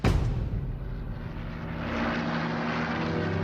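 A Hawker Typhoon fighter-bomber roars close by in a wartime attack, its engine drone loud and steady with a slight shift in pitch as it passes.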